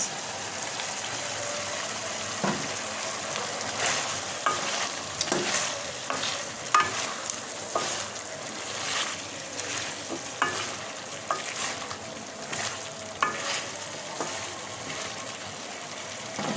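Sizzling stir-fry of taro stolons with green chillies, a spatula scraping and tossing in a steady rhythm over continuous frying hiss, close and moderately loud with no voices.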